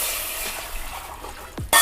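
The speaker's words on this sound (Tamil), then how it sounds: "இதையும் சேர்த்து நல்லா கலந்து விடலாங்க" Tomato rasam is stirred in a pot, giving soft scraping and swishing with faint sizzling, then a sharp knock of the utensil near the end, all close and fairly quiet.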